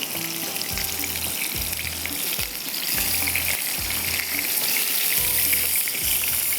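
Chicken methi kababs sizzle and fry steadily in a pan of hot oil, a continuous close crackle with occasional soft clinks and scrapes from a utensil throughout.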